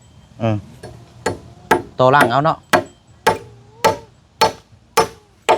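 A hammer drives nails into the wooden frame of a temporary hut: about nine sharp, ringing blows at a steady pace, close by. Someone speaks briefly between strikes.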